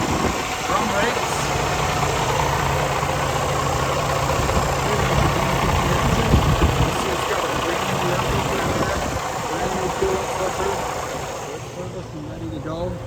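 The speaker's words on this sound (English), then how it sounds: "I want to get a good video of the engine running first." A 2019 Freightliner Cascadia's Detroit DD15 diesel engine idles steadily nearby, a loud, continuous low rumble and clatter that stays unchanged throughout.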